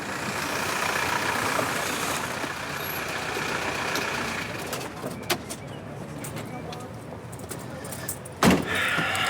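A car engine idles with a steady low rumble, joined by a few brief clunks and knocks near the end.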